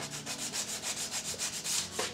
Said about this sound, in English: do some last minute sanding